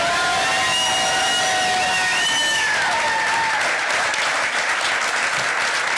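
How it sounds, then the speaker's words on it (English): Crowd applauding the Virginia Attorney General's wife, Paige, at an election night event, a broad steady wash of clapping that rises and fills the room, with faint tonal whistles or cheers fading early on. "Please give her a round of applause."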